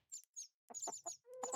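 Chickens clucking in the video game Minecraft, several short, quiet clucks and squawks arriving in quick bursts with brief silent gaps between them.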